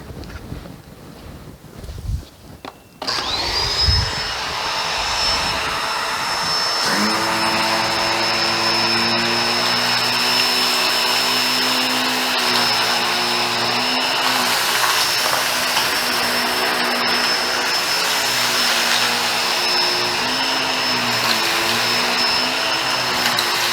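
A Bissell Pet Hair Eraser Turbo Plus vacuum cleaner starts with a click and spins up to a loud, steady whine while sucking up coarse beach-type sand, its pitch wavering slightly as it works, close and continuous.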